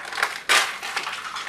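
Crisp crunching of crickets being eaten, a short dry burst of crackling close to the mouth followed by smaller scattered crunches, with no talking.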